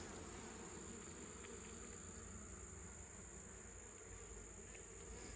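Honey bees crawling on a pollen patty in a nuc hive, a faint continuous buzzing hum with a steady high insect whine and no voices.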